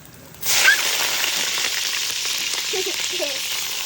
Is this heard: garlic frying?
yes